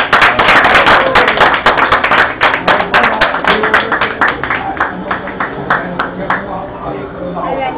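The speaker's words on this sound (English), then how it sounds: "So clap for them." An audience claps in a burst of sharp, rhythmic hand claps at a garba event, loud at first and gradually thinning out over several seconds.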